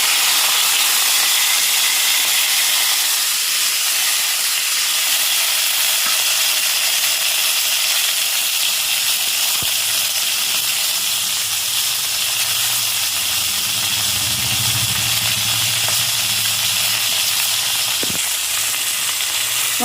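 Onion, tomato, garlic and coconut masala frying in a pressure cooker for horse gram sambar, a steady loud sizzle and hiss throughout with occasional faint stirring scrapes.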